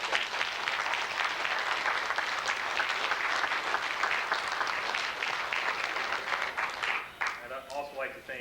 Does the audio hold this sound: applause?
yes